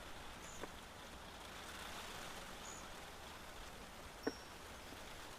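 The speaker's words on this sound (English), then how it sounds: "as the rain kind of continues pattering down" Steady rain patters down outdoors in Shizuoka Prefecture, Japan, a soft continuous hiss with a couple of faint drips or knocks standing out near the end.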